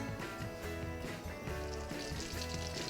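A soft, continuous sizzling hiss of two tablespoons of butter melting in a saucepan, steady and close, with no voices.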